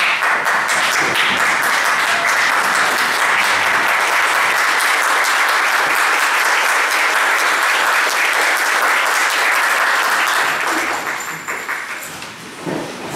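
An audience at a formal gathering applauds a distinguished commissioner, with sustained, dense clapping that fills the room and then starts to thin out near the end.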